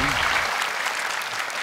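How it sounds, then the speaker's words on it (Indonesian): Applause for the contestants on a televised Indonesian Quran-reciting competition, a short burst of audience clapping that stays full and steady after a voice fades at the start. "Buat tepuk tangan lagi untuk 6 peserta kita"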